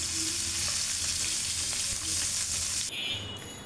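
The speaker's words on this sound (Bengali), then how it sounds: "প্রথমে হলুদ লবণ মেখে মাছগুলো ভেজে নেওয়া হচ্ছে।" Fish pieces rubbed with turmeric and salt fry in hot oil, giving a loud, steady crackling sizzle with occasional pops; it cuts off abruptly near the end to a quieter hiss.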